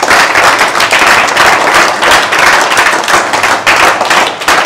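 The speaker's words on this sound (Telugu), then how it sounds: "వారికి కూడా మీరందరూ క్లాప్స్ కొట్టి ఆహ్వానం పడుతుంది" A group of children clap together to welcome a guest, dense continuous applause with a loose rhythmic pulse, loud and close throughout.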